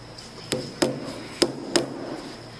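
A hammer drives nails into thin wood with four sharp, separate strikes spaced irregularly over a few seconds, close and clear over a quiet room background.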